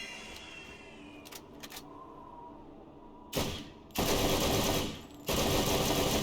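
Rifle fire in Borderlands, a first-person shooter, comes as a few faint early shots and then loud, sustained bursts of rapid fire with a short gap between them.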